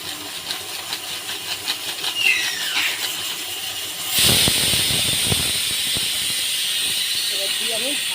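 Chicken kosha cooks in a pan with Kashmiri chili powder added; a faint bubbling gives way abruptly midway to a loud, close hiss that keeps sizzling steadily to the end.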